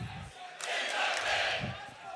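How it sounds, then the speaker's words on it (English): Crowd at an XSET vs Rogue Rainbow Six Siege Berlin Major semi-final chanting "Let's Go XSET" with rival fans answering "In the Bin", a loud, swelling roar of voices filling the arena in continuous waves. "the Let's Go XSET is being replied to by In the Bin"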